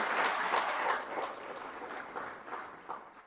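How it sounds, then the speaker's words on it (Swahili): Workshop participants clap together at the close of a business teachers' training session, a dense, steady applause of many hands that eases off slightly after the first second. "naomba tujipigie makofi"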